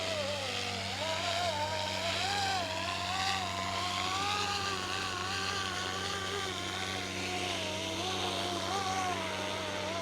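Airwolf RC helicopter landing, its rotor and motor droning steadily nearby with a wavering, sweeping whine and a constant low hum throughout.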